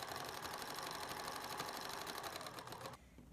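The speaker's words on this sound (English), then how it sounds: "I'm going to run a zigzag stitch to hold that in place" A sewing machine stitches a zigzag seam on summer garment fabric, running fast and steady with a dense rapid mechanical chatter up close for about three seconds before stopping abruptly.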